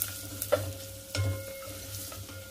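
Ginger pieces, cumin seeds and curry leaves frying in ghee for a pongali offering give a faint, soft sizzle with a few light stirring taps, close and quiet, no speech.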